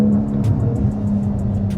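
A 2024 Porsche 911 Turbo S engine pulls hard under acceleration with a steady, droning, close-up growl heard from inside the car, without any talking.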